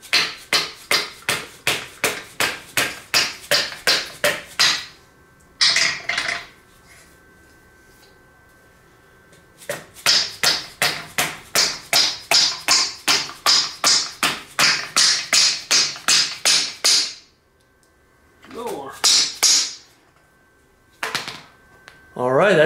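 Rapid series of sharp metallic hammer strikes fitting a suspension K-member on a Fox-body car, in quick bursts, loud and close, with short pauses between runs of blows.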